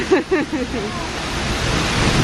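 Seljalandsfoss waterfall in Iceland, heard from behind the falling water: a steady, dense roar of cascading water fills the scene, with a voice briefly audible near the start.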